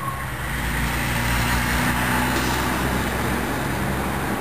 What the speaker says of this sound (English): a hillbilly driving by in his truck listening to rap music